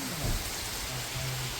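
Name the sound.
heavy rain falling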